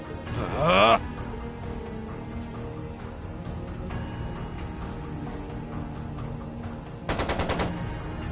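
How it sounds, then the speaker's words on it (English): Machine gun fire in a video game, heard as two short, loud bursts of rapid shots, one at the start and one near the end, with a quieter rumbling background between them. "It sounded like a machine gun."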